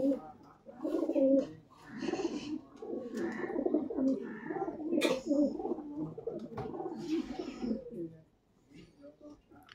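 High-flying pigeons kept in Serampur coo in repeated soft, throaty rolls at close range, with a short pause near the end before the cooing resumes.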